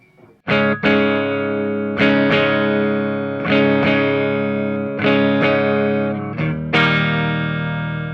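A 2020 Fender Parallel Universe Vol II Troublemaker Tele with neck and middle pickups combined, clean and shimmering, strums a series of chords, each ringing out, about six strikes in a slow steady rhythm.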